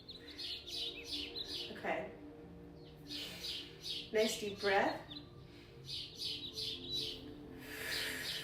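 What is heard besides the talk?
birds chirping outdoors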